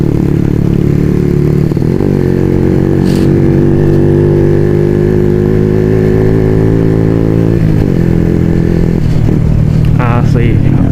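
A Honda Supra motorcycle engine fitted with a new silencer runs steadily nearby, a continuous loud idle with throttle changes around the second and eighth seconds and rattling clatter toward the end.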